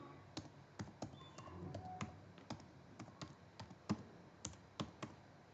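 Typing on a computer keyboard, a string of crisp, irregularly spaced key clicks, close and fairly quiet, with no voice over them.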